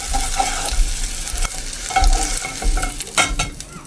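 An egg fries in a pan with a close, continuous sizzle, broken by repeated scraping and stirring knocks of a utensil against the pan.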